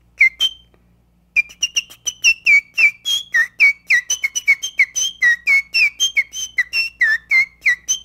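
A bird guide whistles an imitation of a bird call: one brief note, a short pause, then a fast run of clear, bright whistled notes with downward slides, repeated in a steady rhythm, close and alone.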